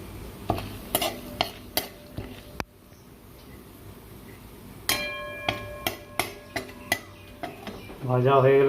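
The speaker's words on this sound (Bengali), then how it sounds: "খুবই হালকা আঁচে ভাজবেন।" Repeated metallic clinks and scrapes of a utensil stirring in a pan of ghee over a very low flame, in irregular bursts over a faint sizzling background.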